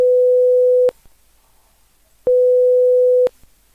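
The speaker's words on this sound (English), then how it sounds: "So this is now the generated sine wave" A generated 500 Hz sine wave plays as two identical steady electronic beeps, each about a second long, separated by a quiet gap and starting and stopping with sharp clicks.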